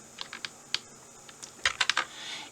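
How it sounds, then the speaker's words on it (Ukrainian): A computer keyboard typed on in short bursts, a few scattered clicks followed by a quicker cluster of keystrokes, close and fairly quiet with no talk. "Знов таки F4 натиснули і закрили скобку Enter"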